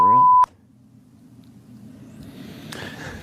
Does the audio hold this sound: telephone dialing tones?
yes